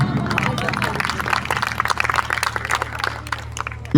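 Audience applause at an evening entertainment show in Goa, a steady wash of many hands clapping with crowd murmur throughout, fairly close and loud, with a sharper burst at the very end.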